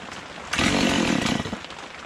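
A Stihl MS170 chainsaw, just fitted with a swapped carburetor, starts on the first pull and runs loud and close, a short burst of engine roar with nobody talking.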